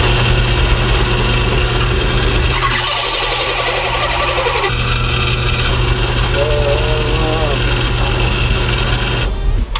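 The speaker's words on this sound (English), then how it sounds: "I remember why I hate drilling through hardened steel" Drill press grinding through a hardened steel lawn mower blade, a loud continuous scraping and whirring with a motor hum underneath and shifts in tone as the bit bites.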